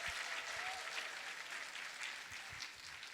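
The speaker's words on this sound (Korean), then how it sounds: "이 시간 따뜻한 환영의 박수로 우리 선교사님을 모시겠습니다" Warm applause from a church congregation welcoming a missionary to the pulpit, steady dense clapping that fills the room for several seconds without a break.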